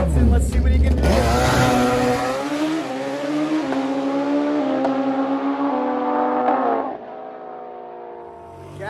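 A grudge-race drag motorcycle screams down the strip on its run, engine pitch climbing through rapid gear shifts under steady loud roar, then dropping off near the end as the bike backs off, with an announcer talking over it.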